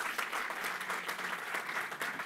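Sustained applause from an audience at a parliamentary club meeting in Zielona Góra, steady and dense clapping running throughout without pause.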